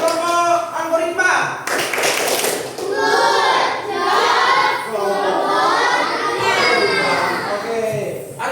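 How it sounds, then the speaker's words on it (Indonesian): A class of children clapping in rhythm for a group in a school lesson, loud and close, with children's voices and chanting mixed in throughout. "Kita berikan dulu tepuk puncak untuk kelompok algoritma."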